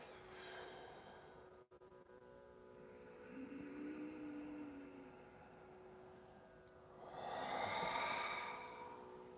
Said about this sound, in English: Deep, energetic breaths.